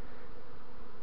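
Honeybees buzzing in an opened hive while the colony is expanded with added frames, a steady dense hum that is loud and continuous throughout the short stretch, with no talk.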